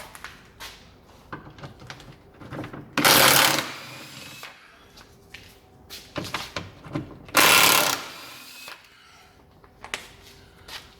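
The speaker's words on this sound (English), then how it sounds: "now I'm going to remove these two back bolts." Bolts come off the front subframe of an Alfa Romeo 159 under a ratchet, with scattered metallic clicks and two loud rattling bursts of about a second each, heard close up.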